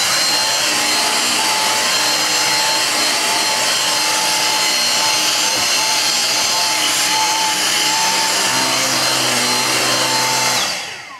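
A Dyson V6 cordless vacuum with its motorised head runs loud and steady on carpeted stairs, a constant high whine over a motor drone that holds throughout before cutting off at the end.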